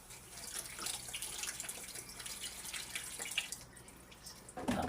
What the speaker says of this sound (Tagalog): lalagyan na natin ng lagyan na natin ng tubig